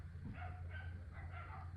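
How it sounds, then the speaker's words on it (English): Two little dogs outside yapping in several faint, distant bursts that come in pairs, muffled by walls and set against a low steady hum indoors. "there are two little dogs barking outside"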